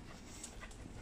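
A dog panting steadily outdoors in the sun while out on a leash, with quick soft breaths that run continuously and close up through the short moment, with no talk.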